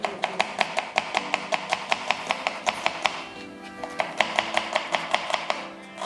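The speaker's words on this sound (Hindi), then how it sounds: "मैंने ये अनियन, जिंजर और गार्लिक चॉप कर लिया है" A knife chops onion, ginger and garlic on a board in a home kitchen, with quick, evenly spaced sharp taps close by and a brief pause midway.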